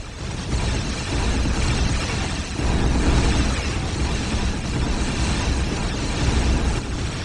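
A core overload blast from the Warhammer 40,000 game Dawn of War: Dark Crusade, heard as a dense, continuous roaring rumble that stays loud and sustained for several seconds without letup.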